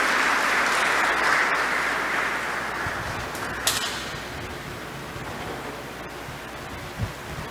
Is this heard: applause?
yes